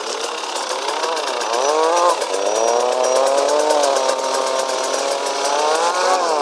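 A KTM EXC 300 motorcycle engine idles and rises gently under light throttle, a close, steady buzzing drone whose pitch swells and dips a couple of times over several seconds.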